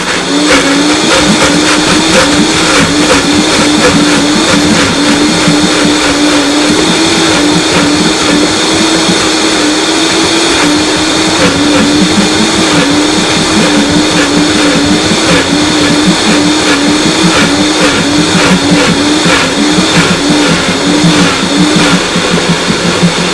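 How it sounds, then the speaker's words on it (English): A food processor or blender runs continuously at close range, a loud, steady motor whir with a grinding, rattling texture lasting over twenty seconds with no pauses. "30 seconds, food processor or blender."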